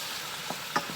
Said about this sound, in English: I'm just going to go ahead and toss up the jackfruit with the onions